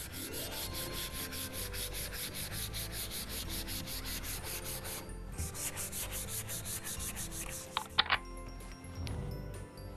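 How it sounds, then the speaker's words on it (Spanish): Sandpaper folded in the hand rubs along the grain of a wooden vanity being refinished, a steady close scratching sustained throughout with a few sharper knocks near the end. "En el sentido de la veta, vamos lijando."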